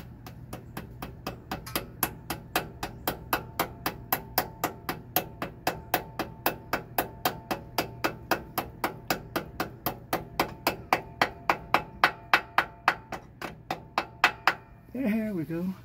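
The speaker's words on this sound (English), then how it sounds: "Get the pretty brass hammer" A brass hammer taps a part back into place during a transmission oil and filter change on a Workhorse P32 chassis with a 4L85E transmission, giving about forty sharp, evenly spaced metallic strikes, close and clear, with a hum beneath and a brief voice.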